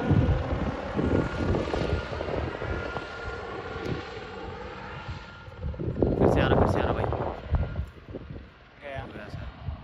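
A helicopter circling overhead near Griffith Observatory drones steadily with a rotor thrum, its engine noise swelling and fading as it passes, while people talk nearby.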